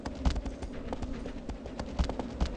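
Rhythmic hoof clip-clop of a galloping horse in Shadow of the Colossus, steady repeated beats carrying across the Forbidden Lands, fairly close and moderately loud with no talk.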